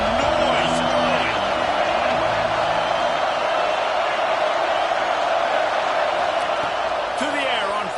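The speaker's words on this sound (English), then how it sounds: "This crowd bringing the energy and noise early." Loud, steady stadium crowd roar from a college football video game, a continuous dense wash of cheering that fills the whole stretch with a few brief whoops and thuds on top.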